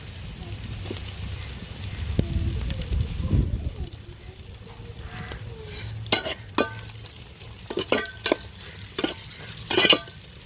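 Onions fry in a pan for a Tamil-style chicken curry, a soft sizzle under low rumbling handling noise, then a series of sharp spatula scrapes and clacks against the pan toward the end, close by.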